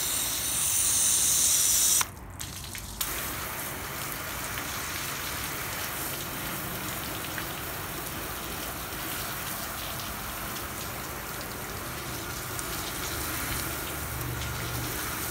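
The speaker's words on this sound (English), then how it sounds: "Let's go ahead and shower this, rinse this" Water spray rinsing a ceramic-coated car surface, a steady hissing patter like rain that runs continuously after a brief clatter and pause near the start.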